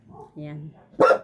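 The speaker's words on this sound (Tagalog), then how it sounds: "Ayang ingay ng aso ko." A single close, loud dog bark lands after a brief spoken word and a short voiced murmur, standing out sharply at the end of the clip.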